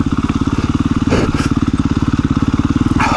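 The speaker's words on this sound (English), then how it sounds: "Just ride over the rocks." A dual sport dirt bike's single-cylinder engine thumps in a steady rapid pulse, loud and close, as it rides over rocks on single track trail, with brief rougher bursts where the tires hit stones.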